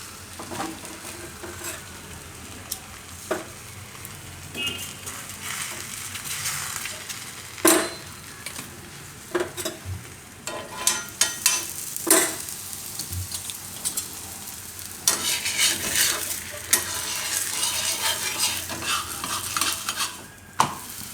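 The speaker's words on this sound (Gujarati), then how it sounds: "અને આપણે થોડુંક તેલ લગાવી લઈશું અને શેકી લેવું એમાં આપણે." Green onion and mint thepla flatbread frying in a little oil on a pan, with a soft steady sizzle and scattered sharp scraping and tapping clicks from the spatula, quiet with no talk.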